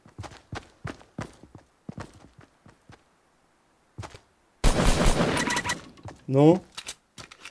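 Gunfire in Fortnite on iPhone, with scattered single shots and sharp cracks in irregular bursts, then a dense loud volley, all alone without talk.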